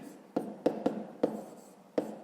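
Numbers are written by hand in a fifth-grade maths exercise, the pen or chalk giving a run of soft scratches with several sharp taps, close and quiet.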